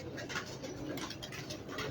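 Soft pigeon cooing, low and murmuring, repeating steadily over a constant background hum.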